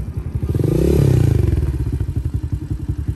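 An Apollo 125 dirt bike engine idling with a rapid thumping beat, swelling briefly as the throttle is blipped and then settling back to a chugging idle, loud and close.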